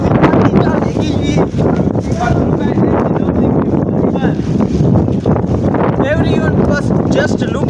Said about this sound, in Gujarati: એટલો પવન આવેલો કે આપણે પડી જાય